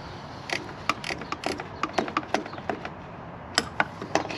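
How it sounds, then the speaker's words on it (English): A speed wrench ratchets on a brake booster bolt during front brake line work on a GTO, giving quick bursts of sharp mechanical clicks in short irregular runs with brief pauses, fairly close and moderately loud, with no talking. "get a little speed wrench in here"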